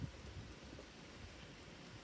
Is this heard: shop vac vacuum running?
no